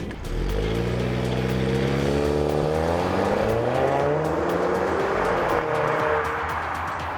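A 2012 Audi A4 drives and accelerates hard, its engine note climbing through rising harmonics with gear changes, loud and steady throughout, with tire and road noise and no talking.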